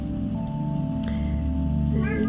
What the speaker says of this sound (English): I don't know if you can hear her in the background meowing at me,